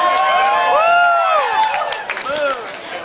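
Concert crowd at a live rock show at the Rickshaw Stop in San Francisco bursts into cheering, whoops and applause, loud and close for about three seconds before easing slightly.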